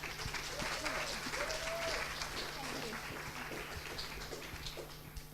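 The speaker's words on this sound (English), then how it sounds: "Ladies and gentlemen, a round of applause," Sustained audience applause welcomes a guest introduced at a space studies program session on the future of the ISS, a dense, steady wash of many hands clapping that tapers slightly toward the end.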